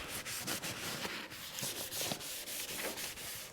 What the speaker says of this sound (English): So I use a Scotch-Brite, just helps to dig in a bit, but it really is just cleaning the surface